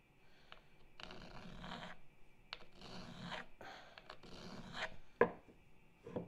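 A countersink bit being hand-sharpened with a file makes short, dry scraping strokes in irregular bursts, quiet and close, with one sharper click near the end.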